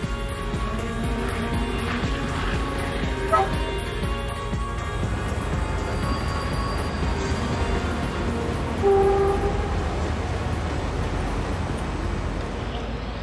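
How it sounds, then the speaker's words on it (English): A train in Algeria rumbles steadily with a low mechanical drone, a brief horn-like tone sounding midway, with faint voices in the background. "The trains seem to be running on time"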